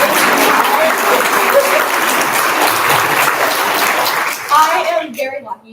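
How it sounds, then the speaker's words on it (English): An audience at a BFA reading applauds steadily for about five seconds, a dense wash of clapping that thins out near the end as a single voice begins to speak. "Can we get another round of applause"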